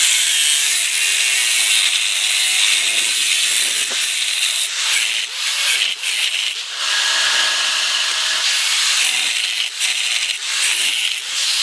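Metal stock being cut off for an arbor press ratchet upgrade, a steady loud grinding, sawing rasp that runs continuously with brief dips in intensity, close up and with no talking.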